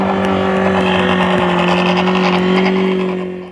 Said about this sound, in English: So there he is there with his little edging machine.